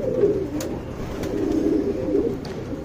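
A fancy pigeon being handled gives soft, low coos in a steady murmur, close by, with no talk over it.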